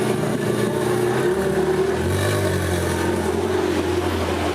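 A supercar engine pulling hard under acceleration, a steady loud droning roar whose pitch drops as it shifts and then climbs again, heard from inside the car.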